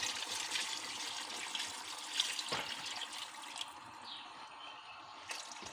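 Water poured from a tap into a pot of chicken for stew, a steady close splashing stream that eases off near the end, with no talking.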